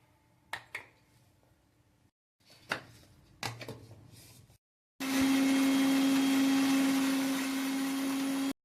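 An electric mixer grinder works garlic, cumin, coriander and coconut into a masala paste: a few clinks and knocks, a brief pause, then a loud, steady motor whine running close up until the end.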